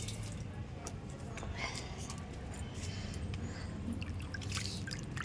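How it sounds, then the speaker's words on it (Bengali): Water is poured from a filled container onto a plant outdoors, a soft continuous trickle and dribble with scattered drips, heard close and fairly quiet against a busy fair background. "গাছে জলটা দিয়ে দিই।"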